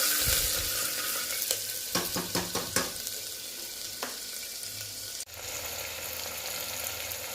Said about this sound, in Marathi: आलं लसूणची पेस्ट व्यवस्थित परतून घ्यायची